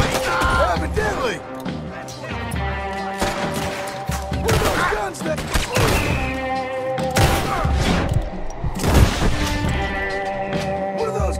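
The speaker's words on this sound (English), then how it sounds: "What are those guns?" Gunfire in Red Dead Redemption 2: rapid volleys of shots, crashes and thuds pile up densely and loudly over a steady musical bed, with no pauses throughout.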